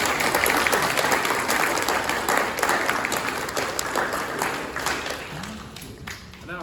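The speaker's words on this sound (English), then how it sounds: "Let's give him a round of applause." Audience applause at a scout troop Court of Honor ceremony, a steady wash of many hands clapping that fills the room and slowly thins toward the end.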